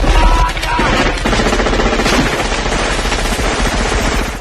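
Dense, sustained automatic gunfire and rapid bursts from soldiers in a Predator action film, loud and continuous throughout with no talking.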